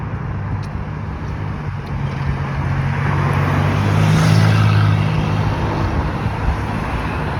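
Cars, many of them foreign makes such as Hyundai, Kia and Chevrolet Cobalt, drive along a street in Taraz. A constant traffic roar swells as a vehicle passes close by near the middle, then settles back.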